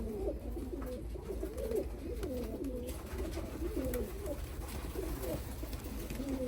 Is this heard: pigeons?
yes